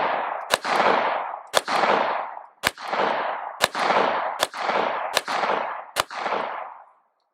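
Seven gunshots fired at a target at about five yards with a pistol carrying an RFX44 closed-emitter green dot sight, each a sharp loud crack with a long echoing tail, spaced roughly a second apart.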